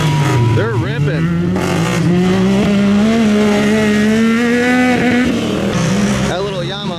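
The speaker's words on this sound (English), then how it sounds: "That little Yamaha's ripping, though." A small Yamaha motorcycle races close by, its engine revving and whining through rising and falling pitch over seven seconds, loud and steady, while people talk over it.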